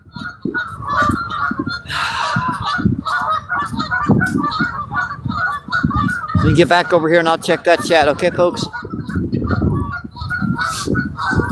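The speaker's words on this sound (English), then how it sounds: "Get away as far away from the geese, them loud suckers as possible." Geese honk loudly and repeatedly on a lake shore, harsh overlapping calls nearby while someone talks over them.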